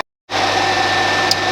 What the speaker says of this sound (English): So yes, I do apologise about the radiator fan.